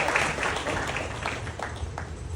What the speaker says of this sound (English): So a round of applause to you guys.